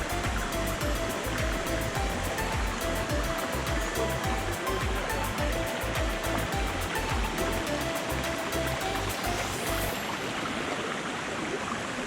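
A waterfall and stream on a lush hike in Roatan: a steady, loud rush of falling and flowing water that fills the whole stretch without a break.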